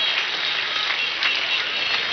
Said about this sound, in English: let's clap unto God and appreciate it